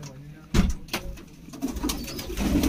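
A pigeon of Ferozpuri bloodline gives a few low, soft coos close by, over light background noise with a voice around.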